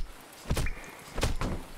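Heavy thuds strike a jammed door in the video game Beyond Mankind: The Awakening, one blow then a quick pair a moment later, each a dull, close knock against a quiet background.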